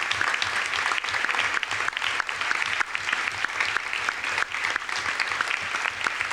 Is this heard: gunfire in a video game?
no